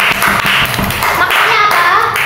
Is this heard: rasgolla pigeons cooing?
no